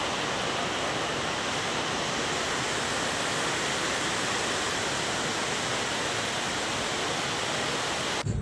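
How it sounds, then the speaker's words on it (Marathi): Very heavy rain pouring down, a dense, broadband rushing roar like a waterfall that stays constant and loud from start to finish before cutting off abruptly. "इथं खूप जोराचा पाऊस सुरू आहे वाटतं"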